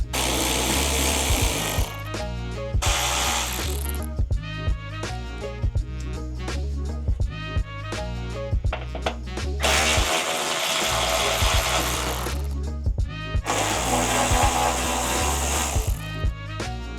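Power tools chatter and hammer in loud, rapid bursts while a bumper is removed from a 1992 Honda Civic, with repeated spells of high whining impact-wrench noise between sharper knocks.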